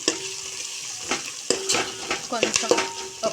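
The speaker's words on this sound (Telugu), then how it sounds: "ఇది మనం కొంచెం ఫ్రై అయ్యాక పసుపు అల్లం వెల్లు పేస్ట్ వేయాలి" Turmeric, ginger-garlic paste and curry leaves fry in hot oil, a close crackling sizzle broken by several scraping stirs of a spoon against the pan.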